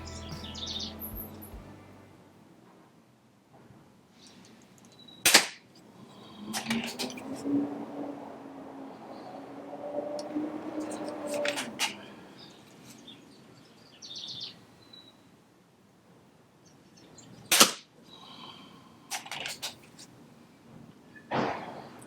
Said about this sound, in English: Let's send some pellets down range.